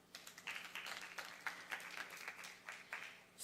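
A conference audience claps in scattered, moderately faint applause with irregular bursts of hand claps across the room.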